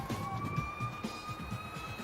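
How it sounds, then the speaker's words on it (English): A police siren wails steadily in long rising and falling tones, loud and fairly close, over low rumbling traffic noise. "Listen to the siren."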